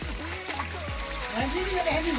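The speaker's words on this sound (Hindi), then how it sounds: "यही वो झरना है जो बहुत ही अच्छा गिरता है।" A village waterfall makes a steady, rushing wash of falling water in the background. Someone talks continuously over it, close to the microphone.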